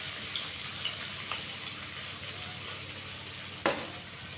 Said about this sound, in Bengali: পেঁয়াজটা আমি গোল্ডেন কালার করে ভেজে নেব।